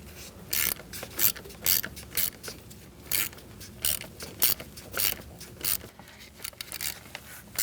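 Ratchet clicking as it tightens thermostat housing bolts on a 2008-2014 Mercedes-Benz C300 3.0; close, sharp bursts of rapid pawl clicks repeat in short strokes with brief pauses, no talking.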